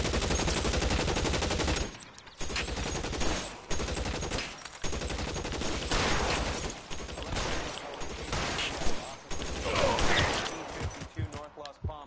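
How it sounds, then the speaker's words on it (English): Gunfire rattles through an L.A. Noire shootout in a series of rapid, loud bursts separated by short gaps, with voices speaking over parts of the exchange. "Shots fired and officers need help at 1456 North Palmas."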